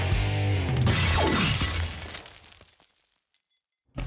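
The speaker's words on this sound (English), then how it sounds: "The vibrations were so strong that the glass literally shook itself to pieces." A glass shatters, shaken apart by strong sound vibrations in a home science experiment: a loud crash followed by tinkling fragments that trail off into quiet, then a brief final noise.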